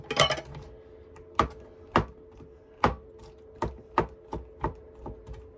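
Olives being chopped with a knife on a cutting board: about ten sharp, evenly spaced knocks up close, after a quick flurry of cuts at the start, with no talking over them.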